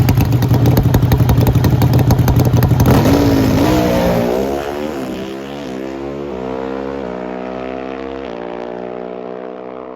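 An NHRA Pro Stock drag racing motorcycle makes a loud, close engine blast that roars hard at first, then drops into a falling, droning pitch as the bike passes and pulls away.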